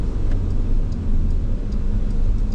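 A 2024 Porsche 911 Carrera's engine gives a steady, loud low rumble, running on continuously and close at hand with no voices over it.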